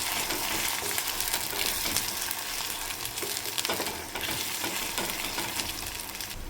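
Ginger garlic paste fries and is stirred in a pan for a prawn and raw mango curry, giving a steady close sizzle with scraping stir strokes throughout and no voices.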